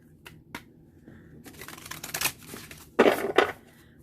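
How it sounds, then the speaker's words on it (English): A deck of oracle cards being shuffled, with riffling bursts and soft card slaps building to two louder flurries near the end, close and without talk. "Give this deck a good shuffle for the month of May."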